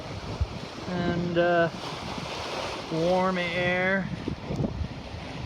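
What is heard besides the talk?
ocean waves and wind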